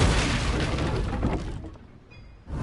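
An Incendio fire spell goes off in Hogwarts Legacy with a loud, broad roaring whoosh that fades over about a second and a half, followed by a faint shimmering tail and a fresh burst at the end.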